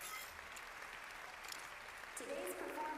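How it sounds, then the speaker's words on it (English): Paw-slapping applause from Red XIII in the Final Fantasy 7 Rebirth video game: soft, steady clapping at low level under faint background music and game sounds. "Barrett tearing up next to the clapping Red 13, slapping his paws together"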